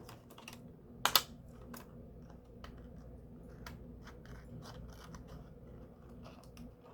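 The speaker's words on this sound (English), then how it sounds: "so let me get my good scissors" Scissors cutting paper for a mason jar shaker album cover, heard as faint, scattered snips and crisp clicks over a quiet room, with one sharper snap near the start.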